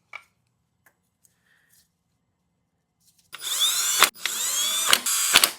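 Power tool driving the crank pulley bolts on a second-generation MINI Cooper: after near silence, two close, loud whirring bursts, each ending with a sharp impact, then a shorter third burst.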